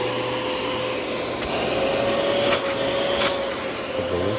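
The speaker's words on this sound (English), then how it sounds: "Okay, so vacuum extractor is here." Carpet cleaning vacuum extractor running with a loud, steady motor whine and airy rush, close by and unbroken, with a few brief surges; no one speaks.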